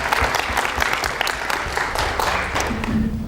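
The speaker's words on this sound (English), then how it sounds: "Can you please give a round of applause?" Audience applause at a leadership talk, dense steady clapping from a crowd filling the whole stretch, fairly loud and close, with a faint voice briefly underneath.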